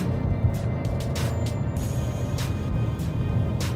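A 2018 Ford Mustang in Sport Plus mode cruises in 7th or 8th gear, heard from inside the cabin as a steady, low engine and road rumble with no talk.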